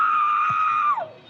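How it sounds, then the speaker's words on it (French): A young boy lets out one sustained high scream of pain, loud and close, that breaks and trails off near the end, during a firefighter and emergency doctor rescue in Toulouse. "Le jeune garçon hurle de douleur."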